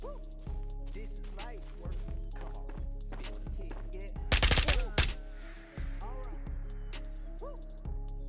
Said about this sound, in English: I know there's somebody shooting to my right